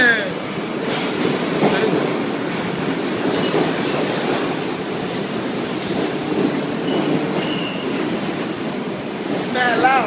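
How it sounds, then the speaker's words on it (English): A subway train pulls into the 110th Street station, a loud, sustained rumble of wheels and rail noise with brief screeches and clatter that fills the whole stretch, while people talk nearby over it. "Yo, that's our train, bro."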